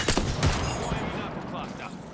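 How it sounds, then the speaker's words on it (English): Rapid gunfire bursts from the Apex Legends video game, several loud shots clustered in the first half second, followed by a dense, continuous rattle of weapon fire and effects. "They're shooting at me."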